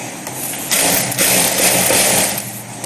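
A sewing machine stitches fabric, with the steady mechanical whir of the motor running continuously at close range and rising slightly as speed picks up, with no talk.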